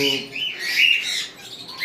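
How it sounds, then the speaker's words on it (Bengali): Pet conures and cockatiels at a bird farm give sharp, shrill chirps and squawks, a few close, bright calls in quick succession. "আজকে আমরা ভিডিওটা করব কোনোর এবং কোকাটেল পাখির উপরে"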